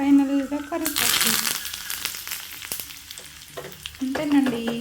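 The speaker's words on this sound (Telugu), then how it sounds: "కరివేపాకు వేసుకోవాలి. కొంచెం ఇంగువ కూడా యాడ్ చేసుకుంటే తాలింపు రెడీ." Curry leaves and asafoetida hit hot tempering oil for chukkakura pappu (sorrel leaf dal), bursting into a loud, crackling sizzle that slowly settles, with someone talking just before and after.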